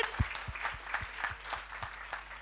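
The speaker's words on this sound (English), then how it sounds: "I would like to give another round of applause to the panelists" Scattered clapping from a small expo panel audience, a steady patter of hand claps at moderate volume with no voices over it.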